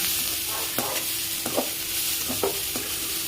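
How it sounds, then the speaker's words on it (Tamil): Avarakkai (broad bean) poriyal being tossed and stirred in a pan, a constant bright sizzle with a few soft scraping strokes of the spoon, close up. "நல்லா இப்படி பரட்டு விடுங்க."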